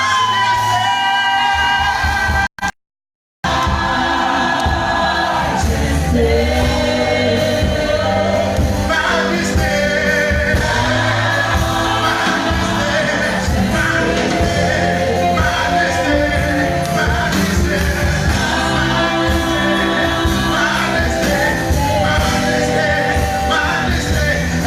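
A church congregation shouts and cries out in loud worship, a dense, continuous crowd roar of yelling and whooping that runs almost unbroken and drops out once, briefly, near the start.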